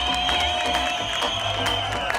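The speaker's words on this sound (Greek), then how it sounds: "Ένα δυνατό χειροκρότημα για τους ανθρώπους της ΕΛΕΠΑΚ" Applause and cheering from a large crowd at a charity run event in Chania, thanking a support association, steady and dense over music and crowd noise throughout.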